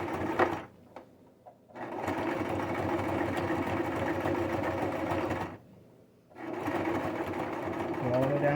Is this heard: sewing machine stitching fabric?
yes